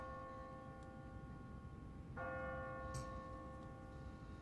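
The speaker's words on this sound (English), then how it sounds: "No one's ringing that bell. It's automatic. On a timer. What kind of church bell goes off at 20 past the hour?" An automatic church bell on a timer in the video game The Walking Dead strikes once partway through, its ringing tone sustaining and slowly decaying over a quiet, hissy background.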